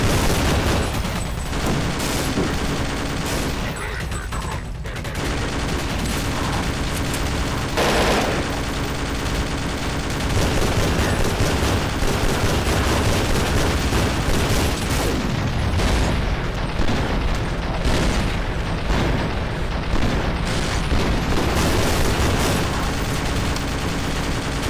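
Dense, relentless automatic gunfire from a modded Half-Life 2 game, with a heavy weapon and allied Combine soldiers firing continuously at close range for the whole stretch, layered with booming impacts and no pauses.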